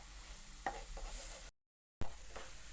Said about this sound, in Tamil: இப்போ இதை நல்லா அப்படி கிளறி விட்டுக்குங்க.